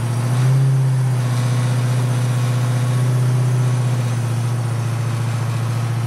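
Car driven out along a measured one-kilometre stretch of quiet road, a steady low engine hum with a constant droning tone, slight swell near the start, then even and unbroken to the end with no voices.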